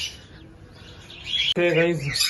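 Small pet birds chirp and tweet nearby in quick bursts, and a person's voice joins partway through.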